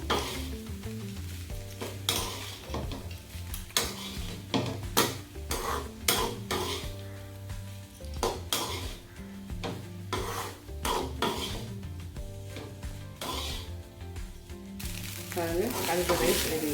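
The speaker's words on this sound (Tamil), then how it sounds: "ரைஸோட இந்த காலிஃப்ளவர் மிக்ஸ்" Cauliflower and basmati rice are stirred together in a pan, a spatula scraping and clattering in uneven rhythmic strokes close up over a faint sizzle, with brief speech toward the end.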